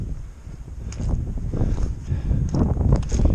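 Gusty outdoor wind buffets the microphone, producing a steady, loud low rumble that swells and fades throughout with no voices.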